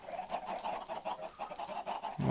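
Minecraft chickens cluck in a steady run of short, repeated clucks at moderate volume, ending in a louder low thump.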